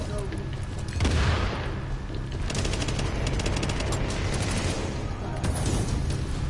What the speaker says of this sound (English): My sticky bomb.